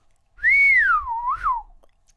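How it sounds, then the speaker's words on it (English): A single drawn-out whistle, used as a sound effect in a podcast ad, rises, dips and swoops up again before trailing off, clear and close with no talk over it. "You've extended the whistle."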